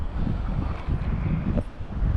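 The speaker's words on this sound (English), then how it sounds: "The wind's blowing from that way, so it's blowing through the tunnels." Wind blows outdoors and buffets the microphone in a steady low rumble with brief gusts, near and moderately loud, with no other clear sounds.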